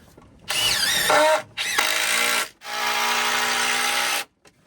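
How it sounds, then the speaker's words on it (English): A cordless power drill whirs in three loud, close bursts, its pitch rising and falling as it drives screws into a panel during a farm repair, with short pauses between runs and no talk. "I got to finish screwing this side on"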